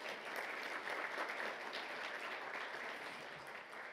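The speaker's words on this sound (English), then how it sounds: "You can accept all that applause and just pass it on to the others." Audience applause at an undergraduate communication research conference, a steady wash of many hands clapping that holds evenly throughout without a break.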